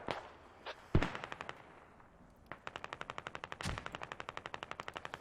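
Rapid automatic gunfire in a team-based tactical video game battle: one sharp loud shot, then repeated fast bursts of evenly spaced rounds, close and prominent, with no voices.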